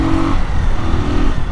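A 2008 Fan 125 motorcycle with an aftermarket exhaust revs hard, giving a loud, close, raspy engine roar that rises and holds for a moment before easing slightly, with no talking.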